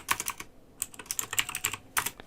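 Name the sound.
computer keyboard typing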